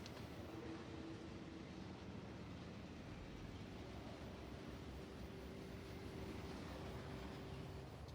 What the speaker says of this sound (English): It still doesn't take super long for the train to get there.